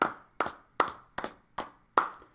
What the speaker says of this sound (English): Everybody should be clapping right now in the room.